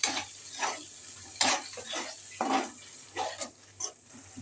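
Masala with grated tomato and salt being stirred and fried in a pan, with repeated scraping strokes of a spoon against the metal and a soft sizzle underneath, close and moderately loud, no talking.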